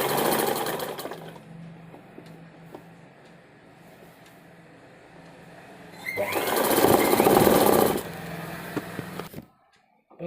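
Sewing machine stitching a garment, with bursts of rapid mechanical whirring, a quieter stretch, then a loud sustained run before stopping, and faint background noise.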